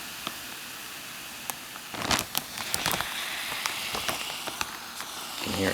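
A MEALSPEC flameless ration heater reacts while heating a meal, giving a faint continuous hiss and fizz broken by scattered sharp crackles and pops, close up and without talk.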